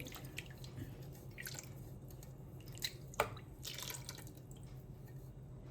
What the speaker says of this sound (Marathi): आता हा थोडंसं मिक्सरचं भांडं आपण थोडं इसळून घेऊया